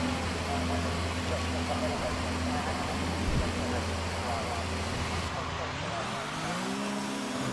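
Formula 1 race car engine in the F1 2019 game, a steady loud drone on the Abu Dhabi circuit that holds a constant pitch, then dips and climbs again near the end as the car shifts gear.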